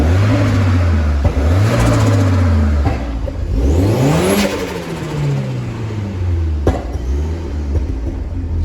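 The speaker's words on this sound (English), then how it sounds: "Give a cheeky rev." Ford Escort RS Cosworth replica, a barn find under restoration, revving its engine close by: loud pitch sweeps rising and falling through several blips over a steady idle, with no talking.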